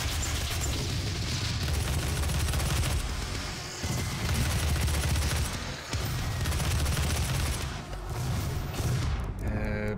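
Rapid gunfire and booming blasts from the video game Doom 2016, loud and near, with dense bursts of shots running almost without a break and only brief lulls.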